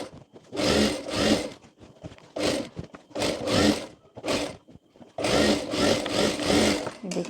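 Sewing machine stitching a seam along the upper part of trouser fabric for ladies' palazzo pants, running in several short bursts with brief pauses between, close and fairly loud.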